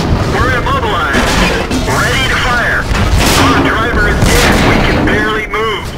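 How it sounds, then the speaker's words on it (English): Gunfire and explosions from an F2P MMO shooter game, dense and continuous across the whole stretch with loud booming blasts, while a player talks over the battle. "I'm shooting back."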